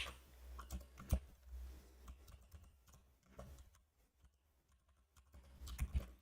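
Keyboard typing while writing C code, quick irregular key clicks in short bursts with pauses between, moderately close and fairly quiet, no voices.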